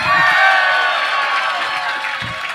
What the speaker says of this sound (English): Put your hands together real quick.